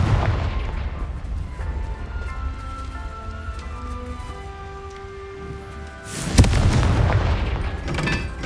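A Confringo blasting curse explodes in Hogwarts Legacy, a sudden loud booming blast after a stretch of ambient game sound, with a rumbling tail.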